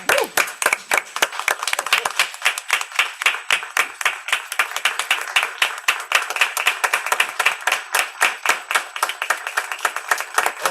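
A board meeting audience breaks into sustained applause, steady rapid clapping from a room of hands lasting around ten seconds at an even level.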